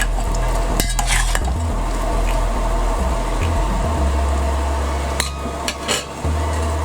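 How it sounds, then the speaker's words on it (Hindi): Dill potatoes being lightly stirred in a pan, with a steady low frying hiss and a few spoon scrapes against the metal. "इसको हम हल्का सा चलाएंगे"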